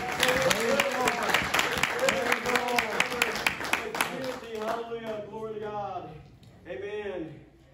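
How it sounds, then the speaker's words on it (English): Hand clapping and applause from a church congregation fill the space, steady and dense throughout while a preacher's voice and singing-like speech carry over the top, the clapping thinning slightly near the end. "Let's give him a big hand clap of praise in the house."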